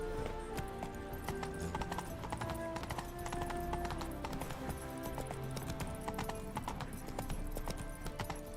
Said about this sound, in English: Hey, we can ride our horse.